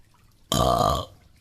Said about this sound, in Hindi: जानबूझकर डकार देने लगता है